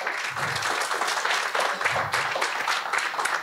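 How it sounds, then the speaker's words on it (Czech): Warm, sustained applause from an audience at a competition award ceremony for a winning team, many hands clapping steadily at moderate distance with no voices on top. "poprosím ještě jednou velký potlesk pro tým"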